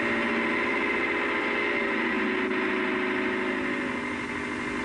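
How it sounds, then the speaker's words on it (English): A 55-horsepower Leyland 344 tractor pulls a Bamford Kverneland four-furrow 14-inch plough, its engine holding a loud, steady, unbroken drone throughout. "The Leyland 344, the 55 horsepower tractor, pulling a Bamford Kverneland's 4-furrow 14-inch plough"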